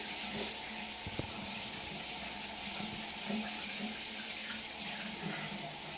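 Warm tap water runs steadily while hair is wetted during a wash day, a continuous close hiss of flowing water with faint splashing and small knocks, no speech.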